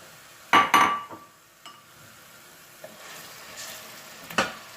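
An onion, garlic, red onion and chili mixture tipped into a hot pan for arrabbiata, with a loud splash of sizzle and clatter at first, then a quieter steady frying hiss with a few utensil knocks, with no voices.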